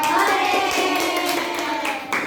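Hands clapping in a children's group clapping game, where each player in turn claps a set number of times; a few close, sharp claps sound over a busy, noisy background.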